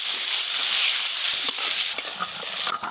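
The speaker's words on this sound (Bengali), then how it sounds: "তিতো রান্না করার আগে উচ্ছেগুলো লবণ হলুদ দিয়ে ভালো করে ভেজে নেব।" Bitter gourd frying in a pan with salt and turmeric, a steady loud sizzle broken by a few clinks and scrapes from stirring near the end.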